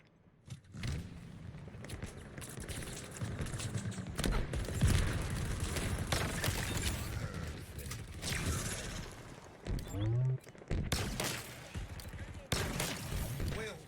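Rapid gunfire in a Big Team Battle match of Halo Infinite, dense bursts and thumps running throughout the clip with game effects layered over it, fairly loud and busy.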